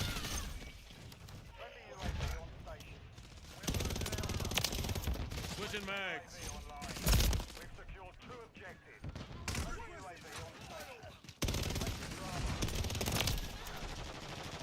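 Gunfire in the video game Modern Warfare III on the Shipment map, loud rapid automatic bursts and single shots with glass shattering, under frequent excited talking from a player.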